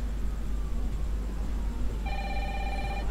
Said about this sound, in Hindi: सुनते हैं जाके कॉल कहाँ से आ रही है